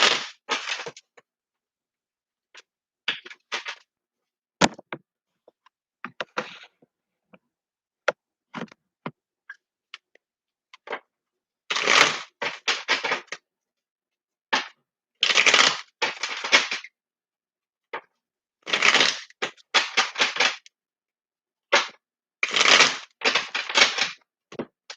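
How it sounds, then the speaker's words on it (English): Tarot cards being shuffled on a spiritual reading table, a series of crisp riffling and clicking bursts in short clusters separated by silences, close and fairly quiet. "let me give a couple of shuffles here."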